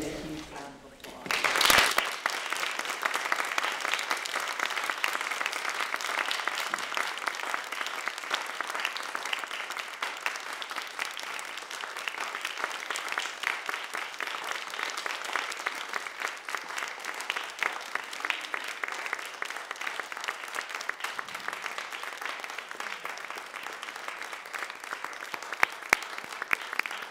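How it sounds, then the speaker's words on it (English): A long, sustained round of audience applause at a book festival reading by incarcerated women writers, dense even clapping from a large crowd that begins abruptly and continues steadily before slowly thinning out. "give these amazing women a huge round of applause"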